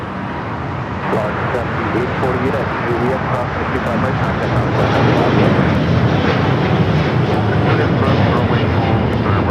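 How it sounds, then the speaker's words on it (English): All Nippon Airways Boeing 787-9 Dreamliner taking off from Los Angeles for Tokyo Narita, a loud continuous jet roar that swells slightly as it goes, with people talking over it. "This is All Nippon Airways Flight 5 taking off to Tokyo Narita on the 787-9 Dreamliner."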